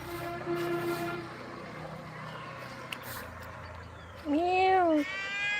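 A cat lets out one loud, close meow with a rising and falling pitch, over a quiet outdoor backdrop with a faint, steady tonal hum earlier on.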